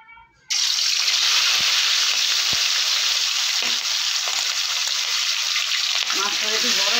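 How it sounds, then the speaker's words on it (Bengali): Large pieces of rohu fish drop into hot mustard oil and fry with a loud, steady hiss and crackle that holds for several seconds, with a few faint clinks of utensils. "মাছটা একটু বড় বড় তাই দুটো করে আমার ভাজতে হবে"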